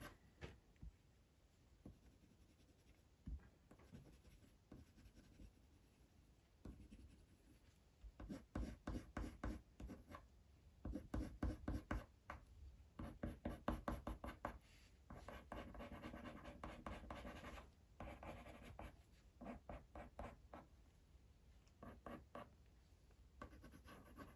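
Coloured pencil pressed hard onto paper while drawing a spaniel, giving a dense run of rapid scratchy strokes in rhythmic bursts, close and fairly quiet, with no talking.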